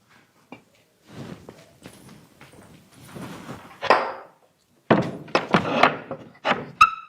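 A kitchen door pushed shut in a home, heard as a series of wooden thunks and knocks with shuffling between them, ending in a sharp latch click.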